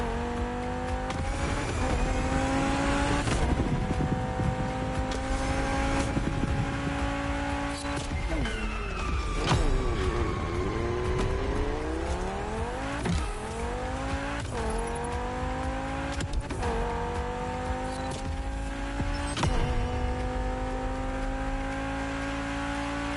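A car engine in The Crew Motorfest revs and accelerates through rising gear shifts on a runway drag race, loud and close, with tire squeals and repeated upshifts.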